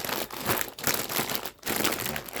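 Plastic bags crinkle and rustle steadily as a seller packs chili for shipping, loud and close with short pauses between handling bursts.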